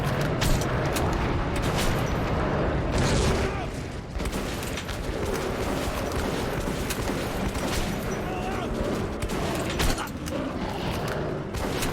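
Rapid gunfire and booming shots ring out while fighting monsters in the video game Metro 2033, a dense, continuous barrage of bursts layered under game noise with a brief lull partway through.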